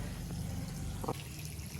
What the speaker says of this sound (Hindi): गार्डन को पानी वगैरह दे रहा हूँ